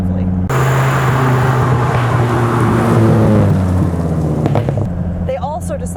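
Dodge Viper GTS ACR engine, a loud, deep V10 drone that holds steady and rises in pitch under acceleration, then drops away as a voice starts speaking near the end.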